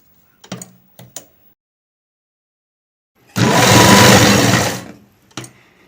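A sewing machine stitching the shoulder seams of a blouse runs in one loud continuous burst of about a second and a half, framed by a few short clicks and handling knocks before and after.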